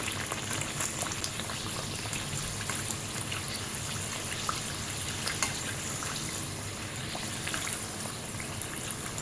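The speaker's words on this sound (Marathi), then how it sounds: "आपलं तेल हे परफेक्ट तापलंय आहे तर आता आपण एक एक कचोरी यामध्ये सोडणार आहोत" Kachori, a Shegaon-style fried snack, sizzles in hot oil with a steady dense bubbling and crackle, continuous and moderately loud up close, without any talking.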